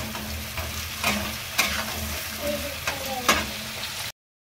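Onions sizzle and fry in a pan for a village-style chicken curry, with a steady low crackle and several brief scraping stirs of a spoon, close and fairly quiet, no talking.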